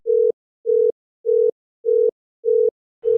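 A telephone call-progress tone sounds while a call is placed, a steady, even series of short identical beeps with equal gaps, loud and clean, with a brief crackle at the end.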